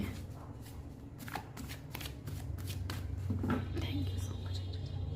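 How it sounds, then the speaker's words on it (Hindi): A deck of tarot cards is shuffled close by, giving rapid riffling flutters in several quick bursts over a soft background hum, while a person whispers and speaks quietly. "last shuffle"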